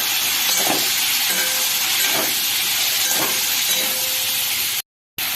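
Cut ridge gourd pieces go into a hot frying pan, where a strong, steady sizzling hiss fills the air almost without pause before a sudden brief silence near the end.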